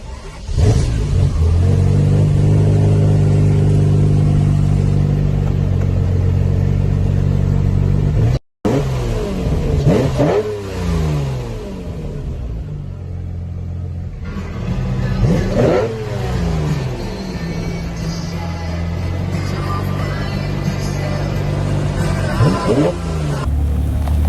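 Lamborghini Huracan LP 640-4, a 640-horsepower all-wheel-drive supercar, close and loud: a rough, throbbing engine note with several sharp revs that climb and fall, and faint voices underneath.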